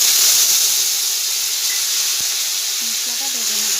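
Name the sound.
frying ground spice paste of cumin, coriander, ginger, chilli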